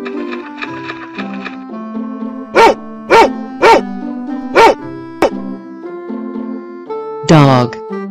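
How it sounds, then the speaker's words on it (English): Dog barking in a farm-animal sound sequence: four sharp, loud barks in steady rhythm, preceded by softer yips and whimpers and followed by a single bark and a later high yelp. "Dog."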